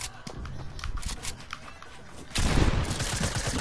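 Video game gunfire in a multiplayer match, with rapid bursts of crackling shots that jump to a louder, denser barrage partway through, heard over game background noise.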